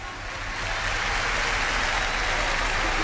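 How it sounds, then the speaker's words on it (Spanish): Sustained applause from a large football stadium crowd during a Paraguayan league match, Cerro Porteño vs Sportivo Ameliano, a dense wash of clapping that swells slightly and holds steady. "se retira aplaudido Piris Damota."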